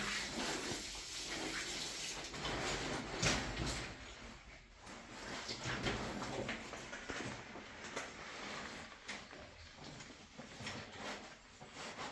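Water gushes steadily through the hose of a jackleg rock drill in an underground gold mine, a continuous hissing spray that stays fairly loud throughout with small clunks of handling mixed in.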